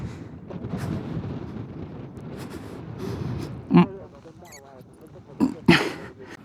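Strong gusting wind buffets the microphone in Nepal's Mustang region on a motorcycle ride, a steady low roar with a few louder bursts toward the end.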